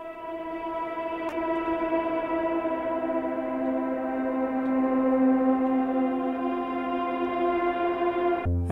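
A Venus Theory Chimera drone instrument in Decent Sampler: a sustained, layered synthetic tone with rich stacked harmonics and a slight upward pitch drift, steady and fairly loud for over eight seconds before cutting off, with one brief click early on.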